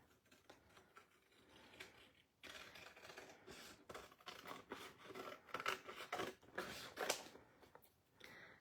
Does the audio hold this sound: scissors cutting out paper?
yes